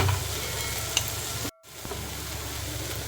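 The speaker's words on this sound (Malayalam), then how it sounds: "ഒന്ന് ഒന്ന് ഉടച്ചു കൊടുക്കുക ഉടയാത്തേക്ക് ഒന്ന് ഉടച്ച് കൊടുക്കാം" Cooked tomatoes being mashed and stirred in a pan for an okra curry with coconut milk, with a steady close sizzle and scraping throughout, a brief clatter near the middle and a short drop in sound.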